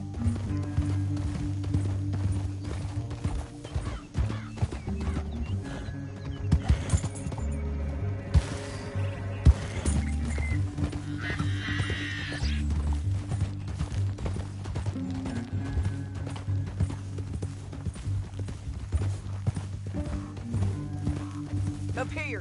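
Horses galloping in the Western game Red Dead Redemption II, a steady drumming of hooves under a low music score, with a brief whinny mixed into the busy action.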